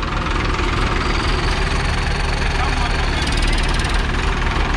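A 2020 Swaraj 855 FE tractor engine runs loud and steady nearby with a rough, knocking diesel throb that holds for the whole stretch, and voices can be heard over it.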